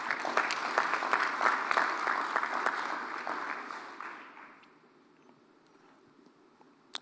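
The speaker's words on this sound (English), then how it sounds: "So let us give him a special clap." An audience at a press freedom day media summit claps loudly for about four seconds, then the applause fades to scattered claps and quiet room noise.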